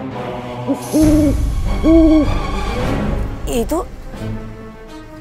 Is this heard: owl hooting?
yes